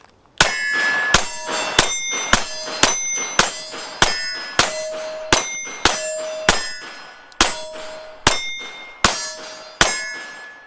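Steel targets ring with a sharp metallic clang under CCI Blazer 115 grain rounds, about fourteen hits in steady succession over eleven seconds, each strike loud and close and leaving a short bright ring.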